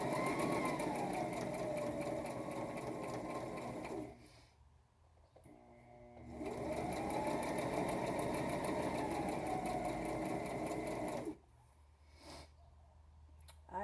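Sewing machine stitching an apron, its steady mechanical whir running close and continuous, pausing briefly midway and again near the end before starting up once more.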